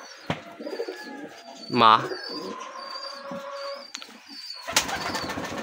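Pigeons coo while feeding their chicks on a rooftop, a soft burst of cooing mid-way among scattered bird calls, a wing flutter near the end, and a person speaking briefly in the background.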